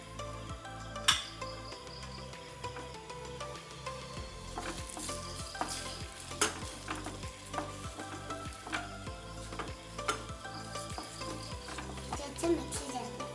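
Boiled eggs are stirred through a masala of chilli powder and turmeric that sizzles in a pan, with a steady frying hiss and regular scraping and clinking strokes of a spoon against the pan throughout, heard close and alone.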